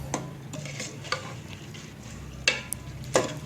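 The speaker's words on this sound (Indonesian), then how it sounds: "Nah, ini tinggal diaduk aja." Rice being stirred in a pot with salt, broth and water, giving soft scraping stirs with a few sharper clinks of utensil against pot over a low background hum.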